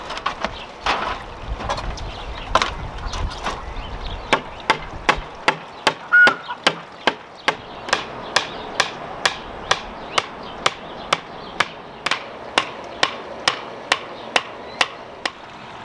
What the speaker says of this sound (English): Then get your ladder and hammer these stakes in.